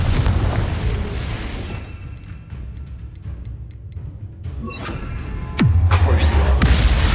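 A Confringo explosive spell in Hogwarts Legacy detonates with a deep, loud boom late on, following a stretch of quieter combat clatter and faint chiming effects.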